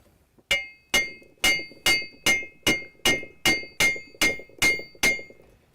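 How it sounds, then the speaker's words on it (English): Hammer chasing a bronze casting, a dozen sharp metallic strikes in a steady rhythm about half a second apart, loud and close with ringing overtones and no talk. "It's better to close them up with a hammer if you can."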